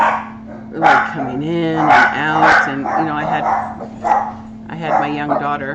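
Dogs in a home bark and yip repeatedly in short bursts, close and fairly loud, under and between someone talking.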